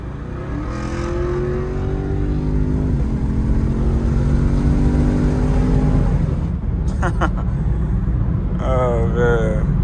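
Chevrolet Camaro SS engine revving and droning from inside the car while driving on a wintry Thanksgiving day, a loud steady rise in pitch, then a drop followed by sharp chirps, other noise and possible voices near the end.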